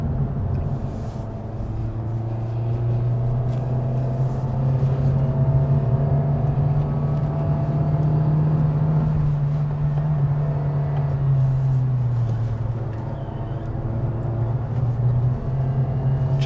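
A 2023 Toyota Vios engine drones steadily as the car climbs the Genting hill road, a loud continuous low hum with gently rising and falling pitch that carries on without talk throughout.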